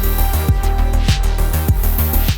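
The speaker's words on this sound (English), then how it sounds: "now you can hear the resonance on the bass" Bass line from an MPC3 with filter resonance raised through a performance macro: loud, punchy repeated notes with a ringing, swept tone on each hit, no voices.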